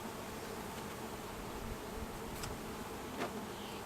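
Honey bees swarm thickly around an opened hive during a frame inspection, a dense, steady, close buzzing drone that fills the whole stretch without letting up, with no voices over it.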